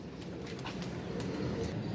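Pigeons coo softly in a low, murmuring burble, close by but faint against steady background noise, with no talking.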